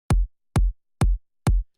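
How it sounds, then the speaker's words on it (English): A synthesized kick drum built in Serum with a layered transient hits four times at an even pace, each a sharp click dropping into a short deep boom, punchy and isolated. "this is a completely made up kick in Serum"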